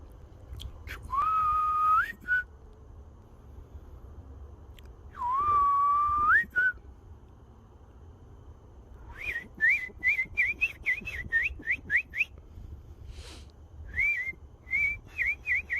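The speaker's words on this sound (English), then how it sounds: "You're just whistling." A person whistles faintly, first two long sliding notes with a pause between, then a quick run of short chirpy whistled notes.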